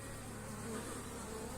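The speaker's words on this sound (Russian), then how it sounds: "Летает только летная пчела, которая приносит нектар и которая приносит пыльцу." Honey bees flying around a beehive at an apiary, a soft steady buzzing hum of many insects, faint and continuous with no talk.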